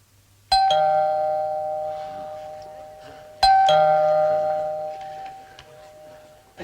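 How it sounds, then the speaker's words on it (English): Two bright ringing door chimes, set off by a push button at an entrance, sound in sequence, each a clear multi-tone ding that lingers and fades in a quiet room. "These chimes can be attached to the entrance to a palace or the flap of a tent."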